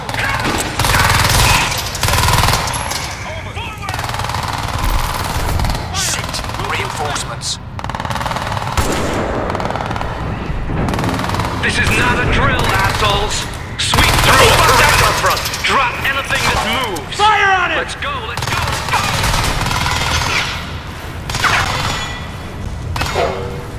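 Rapid bursts of automatic gunfire and shots crackle loudly through a Crysis 3 combat scene, mixed with shouted voices and clanks across the whole stretch.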